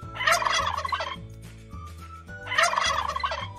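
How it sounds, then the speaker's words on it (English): A farm turkey gobbles twice, each burst a loud rapid rattling call separated by a short pause, set over a steady musical backing. "Turkey sound."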